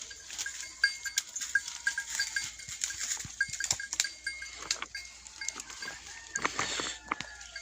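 A herd of large Aleppo goats on a small farm gives off scattered bleats amid light clinking of bells and rustling movement, steady and moderately close throughout.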